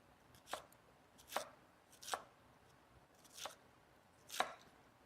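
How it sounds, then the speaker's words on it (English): Green onions sliced at an angle on a cutting board in a home kitchen, five crisp knife chops spaced about a second apart, close and clear over a quiet room. "So at an angle here, we chop up our green onions."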